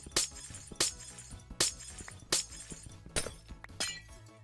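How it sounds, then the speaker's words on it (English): Glass blocks breaking in the Minecraft video game, a series of about six bright shattering crashes spaced roughly evenly, each a short crisp tinkle over a faint low background hum. "a lot of breaking glass noises"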